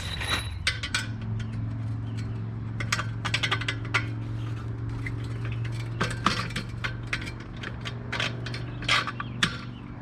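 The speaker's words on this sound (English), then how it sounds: "we'll go ahead and feed our new bolts through that came with the actual steps" New metal bolts are fed through a replacement pool ladder step, giving scattered sharp metallic clinks and rattles over a steady low hum, close and moderately loud, with no speech.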